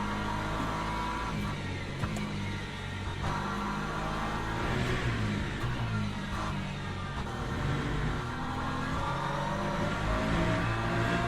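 LMP2 prototype race car in the sim racing game Le Mans Ultimate at Portimao: a steady, loud engine drone with shifting tones as the car passes, no talk over it.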